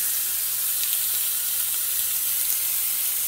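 Rice hitting hot cooking oil with garlic in a pan for vegetable-stock risotto sizzles in a steady, dense hiss that stays close and even throughout, with no voices.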